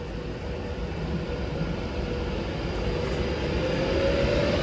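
A train at Stoke-on-Trent station gives off a steady engine whine over a continuous low rumble, with a faint rising tone near the end and no voices.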